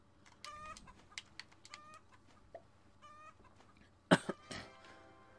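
Chicken boss clucking in the Roblox egg farm simulator game, a series of short bright clucks and chirps spread across the moment, ending with a couple of louder sharp squawks near the close.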